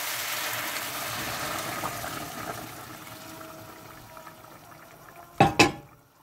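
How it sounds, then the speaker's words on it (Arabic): Boiling water poured over turkey pieces and onions in a pot, a steady seething, bubbling wash that slowly fades, ending with two sharp clatters near the end. "انزل عليه بالميه المغليه"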